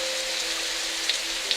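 Steady rain falls in an even, continuous hiss, with a couple of faint drip-like ticks near the end and no voices.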